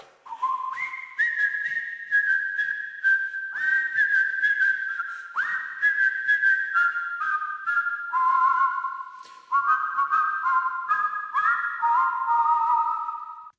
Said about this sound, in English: So here's that whistle part.